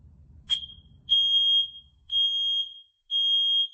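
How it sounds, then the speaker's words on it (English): A combined smoke and carbon monoxide detector under test gives one sharp chirp followed by three long, loud, evenly spaced alarm beeps in a quiet room. "Now we're going to test this smoke and CO detector."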